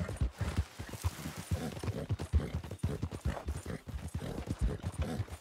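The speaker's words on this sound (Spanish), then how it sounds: "Se me ha vuelto loco" Horse hooves clip-clopping in Red Dead Redemption, a rapid run of close, loud hoofbeats as the horse circles erratically, with some soft voices underneath.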